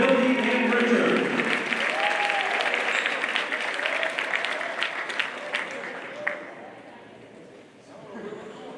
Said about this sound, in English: Let's hear one more round of applause for Zach King.